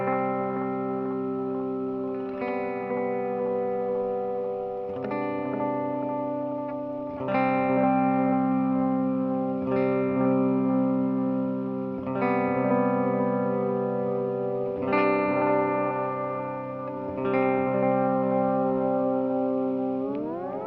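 Electric guitar chords played through a Sinvertek Fluid Time MKii analog delay pedal, struck every couple of seconds and left to ring with dark, softly trailing repeats, loud and alone.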